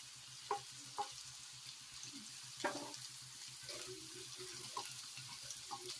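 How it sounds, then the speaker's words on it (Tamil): Carrots, beans, cabbage and capsicum stir-fry over a medium flame for veg fried rice, giving a soft, steady sizzle close by, with a few louder clinks and scrapes of the stirring utensil against the pan. "அது நல்லா வந்து ஒரு மீடியம் ஃப்ளேமில் வச்சுக்கோங்க. வச்சுட்டு ஃபுல்லாக நல்லா வதக்கிட்டே இருங்க."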